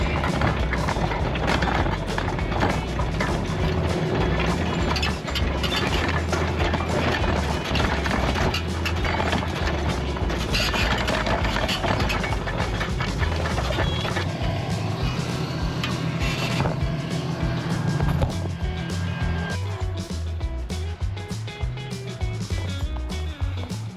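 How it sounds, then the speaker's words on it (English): A tractor drags a heavy tillage plow across bumpy ground, a dense, continuous rumble full of rattling, banging and clanking jolts that stays loud throughout, with no talk. "I was driving beside the plow there, watching you guys just a bounce."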